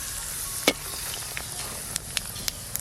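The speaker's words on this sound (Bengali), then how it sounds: "ফোড়নে দেব 5 ফোড়ন, শুকনো লঙ্কা" Bengali five-spice seeds and dried red chillies crackle in hot oil for a lau chorchori, a steady soft sizzle with a few sharp pops and spits scattered through it, nearby and alone.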